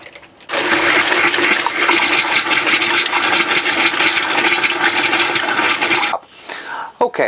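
Water drains from a caravan tap into a glass jug during a system draindown, a loud, steady rushing splash that starts abruptly, holds for over five seconds, then cuts off, with faint voice traces nearby.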